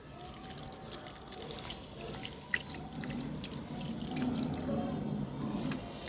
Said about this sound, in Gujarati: હવે આપણે આની અંદર પાણી આપી દઈએ પ્લાન્ટમાં.